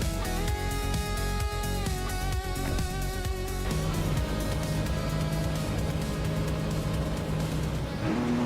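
Race cars in a video game at Highlands Motorsport Park, led by a 2014 Rebellion, their engines droning and revving steadily throughout, with passes and pitch shifts over constant dense racing noise.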